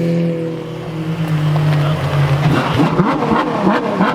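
A Bentley Super Sports engine heard loud and close, a deep steady idle drone that rises into a revving, accelerating roar midway.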